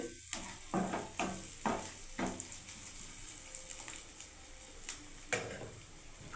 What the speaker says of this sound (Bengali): আর একটু ভেজে নিচ্ছি পেঁয়াজটাকে দেখুন লাল করে